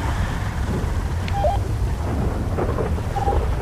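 Steady rain with rolling thunder fills a GTA roleplay game scene, a dense continuous wash of noise with low rumbles underneath and a few faint tonal blips, no talking.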